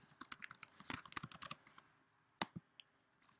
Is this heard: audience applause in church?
no